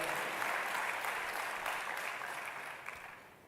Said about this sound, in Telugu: గట్టిగా చప్పట్లు కొట్టి యేసయ్య నామమున మహిమపరచండి